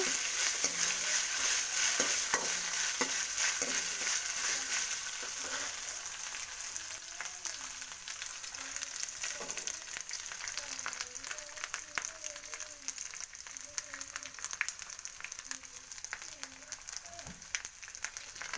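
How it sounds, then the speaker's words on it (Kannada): Semolina (rava) dry-roasting in a pan for vegetable idli gives a steady, soft crackle and rustle with intermittent scraping stirs, continuous and close throughout. "ರವೆ ಲೈಟಾಗಿ ಬೆಚ್ಚಗಾದರೆ ಸಾಕು ತುಂಬ ಹುರ್ಕೋಬೇಕು ಅಂತ ಇಲ್ಲ"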